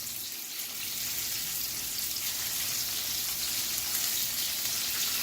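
Salmon sears in a hot pan, giving a steady, dense hiss of sizzling oil that stays even throughout, moderately loud and alone without speech.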